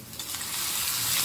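Mustard seeds and fenugreek crackle in hot ghee for a tempering, giving a dense, close, continuous sizzle that swells slightly near the end, with no talk.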